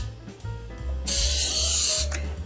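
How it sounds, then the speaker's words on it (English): Baking spray with flour is sprayed into cake pans, a steady hissing burst for about a second, close and loud, after a few light clicks and rustles. "I use baking spray."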